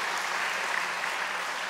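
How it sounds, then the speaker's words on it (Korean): A church congregation gives a steady round of welcoming applause during a Sunday service; dense, even clapping from many hands fills the room at moderate volume. "환영의 박수를."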